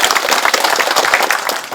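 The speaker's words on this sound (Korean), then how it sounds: "감사의 박수 부탁드립니다." An audience at a forum on the 2.28 democracy movement breaks into sustained applause, a dense, even patter of many hands clapping close by.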